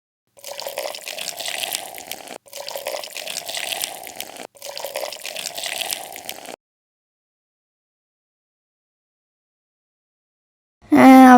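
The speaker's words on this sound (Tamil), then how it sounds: "டீ வேற கொதிச்சிருச்சு, நான் ஊற்றி தரேன் உனக்கு" Boiled tea poured into a cup in a toy kitchen play scene: three steady bursts of liquid pouring separated by short pauses, then silence and a brief sharp sound at the end.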